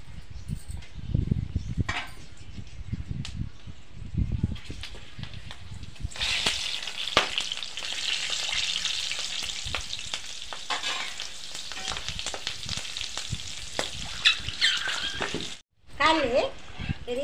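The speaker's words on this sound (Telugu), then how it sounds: "ఇదే నూనెలా ఒక 10 మిరపకాయలు కాల్చుకోవాలి." About ten green chillies fry in hot oil left from street-style chicken pakoda, a loud, steady close sizzle that rises partway through, with stirring and scraping and a voice talking over it.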